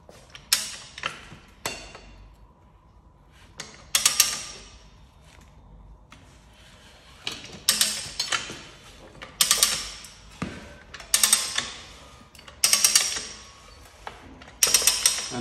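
Ratchet lever mechanism of a tire changer working a KTM 790 Adventure R front tire, giving repeated loud clicking ratchet strokes in bursts with creaks and pauses between, close by and without talk.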